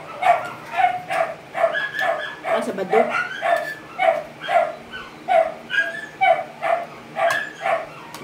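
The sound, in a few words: dog barking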